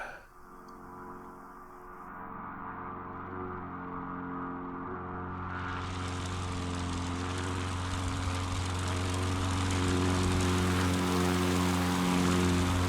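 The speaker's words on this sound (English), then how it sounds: "There's my plane." A propeller plane engine drones steadily in a bush flying simulation over Alaska, a constant low hum that swells louder and brighter partway through and stays sustained to the end.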